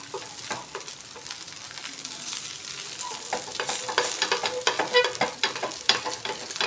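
A rava dosa fries on a hot street-style griddle, with a steady sizzle and scattered crackling and scraping, close by and moderately loud, with no talk.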